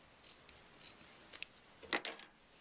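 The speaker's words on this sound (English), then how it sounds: "Trim out the seam allowances" Scissors trim fabric seam allowances on sewn piping, giving a few faint, close snips and slicing crunches spread over a couple of seconds in an otherwise quiet room.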